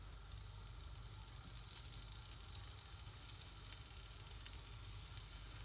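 Quiet, steady sizzling and crackling of fish frying in a pan, continuous with no voices.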